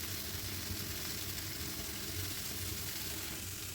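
Chicken shashlik sizzles and fries in a pan, a steady close crackle and hiss that holds evenly throughout with no talking.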